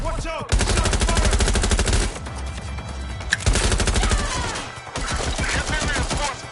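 Loud bursts of rapid automatic gunfire in Watch Dogs: Legion, three long rattling volleys separated by brief pauses, close and dominant.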